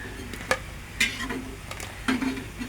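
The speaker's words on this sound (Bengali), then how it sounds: "দেখুন কতটা ক্রিস্পি হয়েছে, প্লেটে রাখছি যে আওয়াজ হচ্ছে পুরো" Small crispy fried potato pakoras are set down on a plate, giving a few sharp, light crackling clicks against a quiet background.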